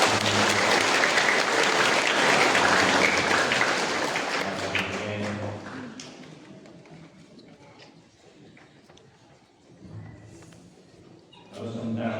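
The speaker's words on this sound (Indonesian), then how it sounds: "Kalau sekarang boleh tepuk tangan." Congregation in a church applauding loudly at a First Communion Mass, steady dense clapping for about five seconds that thins out and fades, then a brief renewed burst at the end.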